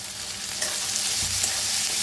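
Coriander roasts in a hot pan, making a continuous close sizzle and frying hiss throughout.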